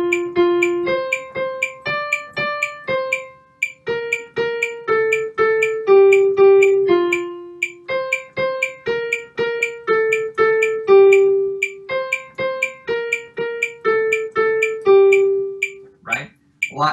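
A metronome click displaced onto the offbeat eighth notes at 120 bpm, with a plucked melody of Twinkle Twinkle Little Star. Steady, bright ticks fall between the decaying notes in a continuous pattern, and no voice is heard.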